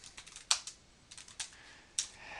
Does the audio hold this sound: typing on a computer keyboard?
yes